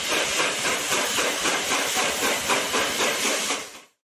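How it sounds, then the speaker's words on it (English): Steam locomotive chuffing and hissing loudly, a dense rhythmic stream of steam bursts with rail rumble underneath, steady throughout before cutting off at the end. "Locomotive,"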